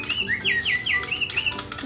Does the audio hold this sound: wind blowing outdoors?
no